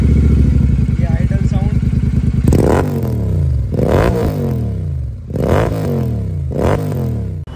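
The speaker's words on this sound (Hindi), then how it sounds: "गुरसेवक का जो बेस नोट है वो है ये," Jawa 42 Bobber motorcycle with an aftermarket Gursevak exhaust: a steady loud idle thump, then four deep revving bursts that rise and fall back one after another.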